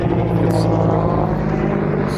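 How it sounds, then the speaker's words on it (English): Firefighting helicopters fly overhead at the Mima Mounds wildfire south of Olympia, Washington, giving a loud, steady rotor drone with a low-pitched hum that continues without a break. "Helicopters,"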